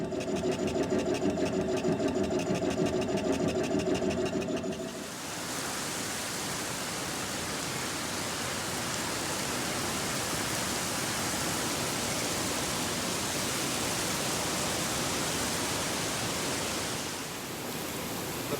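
Laser cutter running in a workshop during a kitchen customization build: a steady close whirring hum with fan noise that shifts to a broad, even hiss and carries on for many seconds, with no talking.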